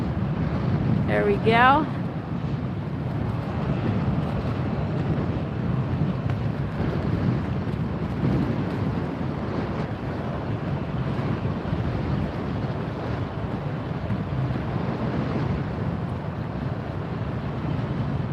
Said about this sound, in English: Woo, this wind is not helping, I'll tell you.